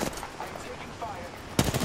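Gunfire in the game Apex Legends, a soft background patter of distant shots followed by a louder, closer burst of rapid fire near the end.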